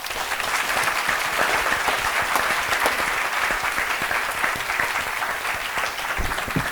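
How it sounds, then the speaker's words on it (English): Sustained applause from a sizable audience, steady clapping throughout with no talking. "I would like to encourage one more round of applause for these amazing people"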